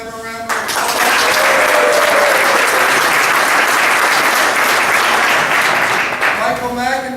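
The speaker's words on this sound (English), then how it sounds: "let's give them a round of applause" Sustained audience applause for a school's board of trustees at a state-of-the-school event, loud dense clapping lasting several seconds, with a voice speaking briefly before and after.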